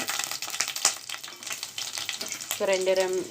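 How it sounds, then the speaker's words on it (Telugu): Mustard seeds and cumin tossed into hot oil, a loud, close sizzle and crackle with brief pops, stirred briefly before the spattering swells again. "నూనె వేడెక్కింది, ఆవాలు జీలకర్ర వేసుకుందాము"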